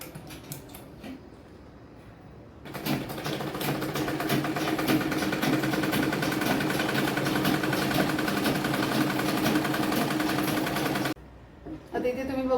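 A sewing machine stitches lining onto the fabric of a waist pouch, running in a steady, fast mechanical whir for about eight seconds after a few short starts, then stopping briefly and restarting.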